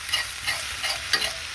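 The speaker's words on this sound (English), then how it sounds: "I'll give it one more stir to try to dry it out." Food sizzling in a frying pan on an RV stove in snowy, cold weather, stirred with soft scraping strokes in a steady rhythm over a constant close hiss, no talking.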